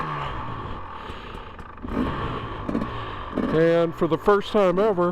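Motorcycle on studded tires setting off on a winter ride in snow, its engine humming steadily throughout, with someone talking loudly over it in the second half.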